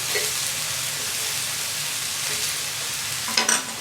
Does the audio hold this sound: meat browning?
yes